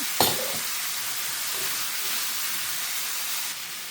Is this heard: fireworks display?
no